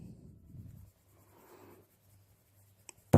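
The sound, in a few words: Polychromos colored pencil pressing and blending on paper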